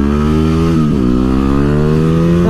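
Yamaha WR250R motorcycle engine runs close and loud, a steady buzzing idle with a brief blip of throttle partway through.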